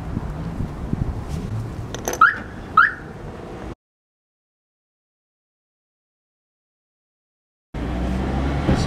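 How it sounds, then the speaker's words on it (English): An old 1980s car alarm sounds in rising, whooping cycles outdoors near a motorbike, then cuts off to silence and starts up again a few seconds later. "car alarm still fitted."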